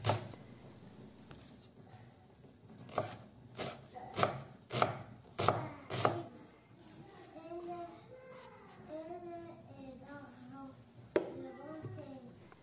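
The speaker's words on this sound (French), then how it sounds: "Je vais couper un oignon vert." Knife chopping a green onion on a cutting board, a quick run of sharp, evenly spaced chops followed by lighter, irregular cutting sounds and a faint voice-like murmur underneath.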